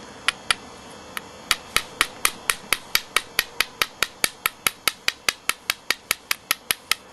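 Flintknapping on a flint blade core: a hammerstone strikes the core's edge in a quick run of sharp, crisp clicks, starting sparse and then settling into a steady rapid rhythm, close and alone.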